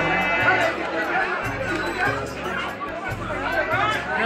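Dense babble of many voices fills a packed train heading to Khirai on 1 January, a steady close-up crowd murmur over a low rumble.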